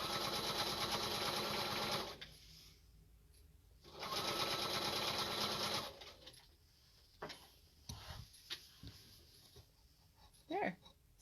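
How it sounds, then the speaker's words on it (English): A sewing machine stitches a mitered corner in two loud, steady whirring bursts, each about two seconds long. Quiet handling noises, light clicks and some faint talk follow. "Let me sew a little bit farther so I can move it."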